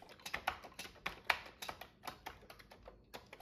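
Quick irregular keystrokes on a Commodore 64 keyboard, with clacky taps in short bursts and brief pauses, close and fairly quiet.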